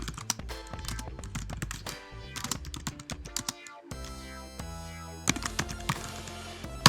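Rapid typing on a computer keyboard, with dense clusters of sharp key clicks continuing throughout and heavier bursts of keystrokes toward the end; no voices.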